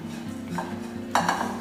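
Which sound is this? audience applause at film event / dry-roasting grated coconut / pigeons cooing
dry-roasting grated coconut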